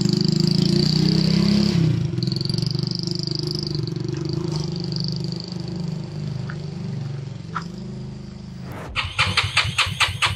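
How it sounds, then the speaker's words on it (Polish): A motorcycle engine cranks and sputters without catching, a steady low churning under hiss for most of the stretch, then a burst of harsher, louder revving near the end, close by with no talk. "Adam się szykuje do wyjazdu również, ale motor nie chce się szykować z nim."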